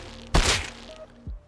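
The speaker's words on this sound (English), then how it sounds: "there's like a metallic ping to it at the bottom. You can hear it when you tap fire." Single tap-fired shot from the SAR rifle in Rust, a loud sharp crack followed by a brief ringing metallic ping and a second softer thump, close and without talk.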